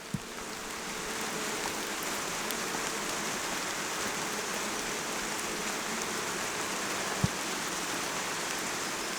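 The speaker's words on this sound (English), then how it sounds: "It's starting to rain on us." Rain falling outdoors over an open beehive during an inspection, a steady soft hiss of drops pattering on surfaces with a faint occasional tap, no voices.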